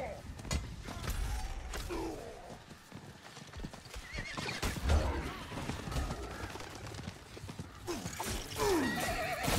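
Horse hooves clip-clop amid creaking and busy game sounds in Diablo IV, with a horse whinnying a couple of times, sometimes under faint talk.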